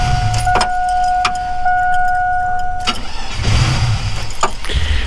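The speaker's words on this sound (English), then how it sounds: "This truck does have a hard time starting." A hard-starting V8 truck engine is boosted with a GOOLOO GP2000 jump starter. Several short cranking bursts come close and loud, with a steady electronic chime tone under the first half.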